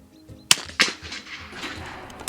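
Several sharp rifle shots from a biathlon range fired in the prone position, each a crisp loud crack with a short decay, spaced unevenly with a final shot at the end and faint ambient noise between.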